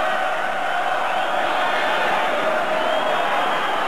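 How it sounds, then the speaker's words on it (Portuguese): A football stadium crowd at the 1995 Brazilian Championship final roars steadily, a dense, continuous wall of cheering and chanting from thousands of fans that swells slightly without any pause. "A torcida tenta crescer junto com o time."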